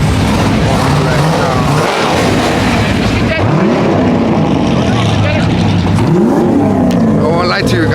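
A Cadillac CTS-V revs hard at a car meet, its engine rising and falling in loud sweeping pulls, with crowd noise and voices underneath.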